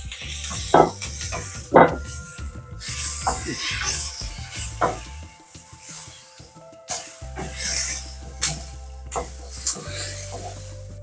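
Chopped ginger and garlic frying in a pan for a chicken liver masala, crackling and sizzling steadily while a spoon stirs and scrapes against the pan in irregular bursts.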